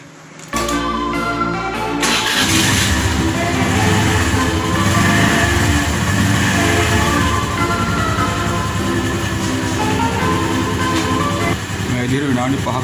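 A Honda Dio scooter engine idling at home before an oil change, starting up abruptly and holding a steady, loud, buzzing drone with a fluctuating rattle, while someone talks over it.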